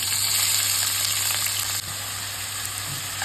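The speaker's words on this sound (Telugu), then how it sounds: "లైట్ బ్రౌన్ వచ్చే వరకు వేయించుకుందాం." Thinly sliced onion with curry leaves, mustard seeds and cumin frying in hot oil, a loud, close, continuous sizzle with a slight drop in intensity midway, no talking.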